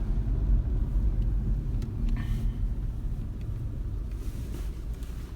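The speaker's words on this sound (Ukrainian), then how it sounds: "Обороты бере прекрасно, їде хорошо, сцепление нормально." Renault Megane engine running while the car is driven, a steady low rumble of road and engine noise heard from inside the car throughout, without talk.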